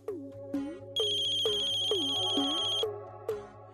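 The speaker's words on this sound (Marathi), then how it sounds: "कृष्णीचा फोन" A melodic phone ringtone plays nearby: quick plucked notes repeat in a steady pattern, with a sustained high chime through the middle.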